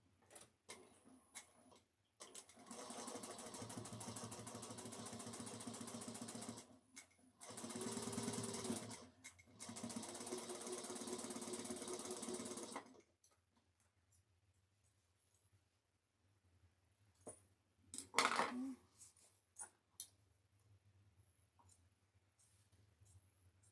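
A sewing machine topstitches along the side of an East West bag, running in three loud sustained bursts with short pauses between, followed by quieter handling sounds and a brief clatter near the end.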